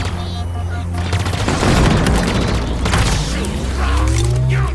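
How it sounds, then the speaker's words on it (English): Plasma energy weapon firing in Halo Infinite gameplay: booming, punchy discharges amid dense crackling gunfire and low rumbling, with whooshing tones toward the end, loud throughout. "The sound is a bit underwhelming almost. It seems to pack a punch, but the sound doesn't quite match it,"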